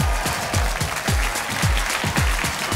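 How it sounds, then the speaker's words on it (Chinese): A television talk-show studio audience claps loudly to welcome a drama's cast on stage, dense broadband applause riding over a thumping, steady musical beat. "掌声有请，"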